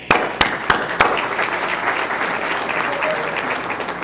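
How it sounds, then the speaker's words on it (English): Steady audience applause at a school district top-100 students ceremony, opening with a few sharp, loud individual claps before settling into a continuous dense wash of clapping from a room full of people. "So I give my own applause to all of you."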